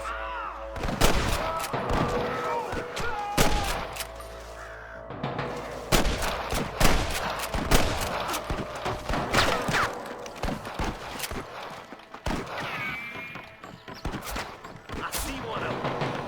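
Repeated gunfire from the video game Red Dead Redemption crackles in scattered bursts, with sharp cracks and volleys mixed among voices and other game effects.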